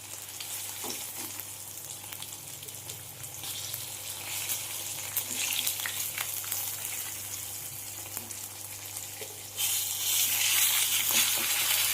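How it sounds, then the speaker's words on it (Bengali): Tilapia fish frying in a wok of hot oil, a steady dense sizzle that runs throughout and grows louder and brighter toward the end, with no talking. "মাছগুলো আমার সব লাল লাল করে ভাজা হয়ে গেছে।"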